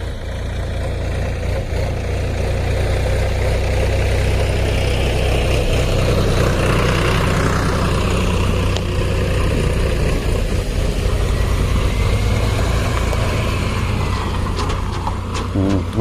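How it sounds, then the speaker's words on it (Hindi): Steady low engine rumble of a vehicle idling or moving slowly on a forest track, constant and fairly close, with a faint rising mechanical whine in the middle and no speech. "वही है महिंद्रा स्पेशियो।"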